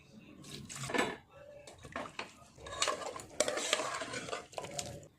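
Stirring and mixing a chicken curry in a pot with salt and curry leaves, a spoon scraping and clattering against the metal in uneven bursts, close and moderately loud.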